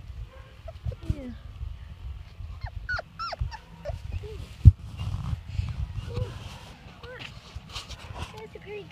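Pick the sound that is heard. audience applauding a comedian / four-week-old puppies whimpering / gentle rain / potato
four-week-old puppies whimpering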